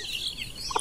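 A large flock of farm chickens, with turkeys and Rhode Island Reds among them, cackles and clucks in a dense, busy chorus at close range in one brief burst, with no talking.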